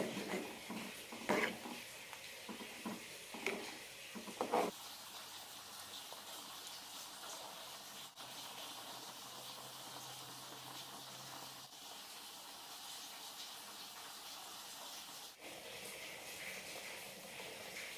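Dried prawn theeyal curry bubbling in a pot gives off a steady, close hiss with a few soft pops and bursts early on, then a constant simmer.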